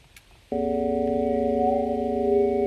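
Synthesizer comb delay patch enters abruptly after a faint quiet start, then holds a loud, steady harmonic drone with a slight rising wobble near the end, with no voices over it.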